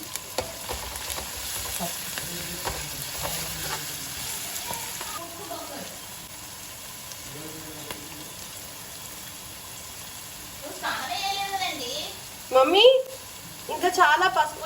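Ginger garlic paste fries for a crab curry with a moderate sizzle and spoon stirring. Voices talk over the cooking near the end.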